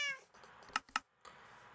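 A cat meows in a Minecraft server game, a brief meow followed by two quick sharp chirps, faint and alone.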